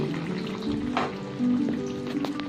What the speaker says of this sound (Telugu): చూడండి చికెన్ అనేది చక్కగా ఉడుకుతుంది కదా